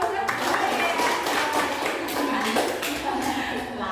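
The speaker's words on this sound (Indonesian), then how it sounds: "Berikut tepuk tangan dulu." A classroom full of people clapping steadily for several seconds, a dense, continuous patter of hands.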